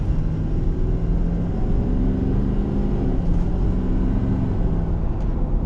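A modified 2019 Ford F250 turbo diesel pickup on 20-inch wheels accelerating, a loud, continuous low engine drone with road rumble heard from inside the cab, steady throughout with no voices.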